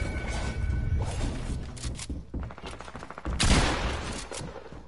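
Gunfire from a pump shotgun in a video game, a chaotic burst of sharp crashing shots and clatter with scattered loud blasts over a few seconds.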